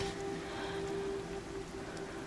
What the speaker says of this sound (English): In the middle of the night, in the middle of the rain.